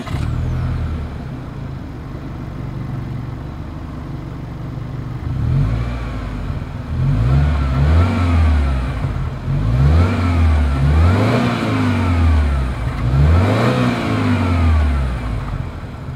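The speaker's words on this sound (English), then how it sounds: "As always, here is that exhaust clip." A 2021 Subaru Ascent SUV engine idles, then its exhaust revs repeatedly in rising and falling bursts, loud and close.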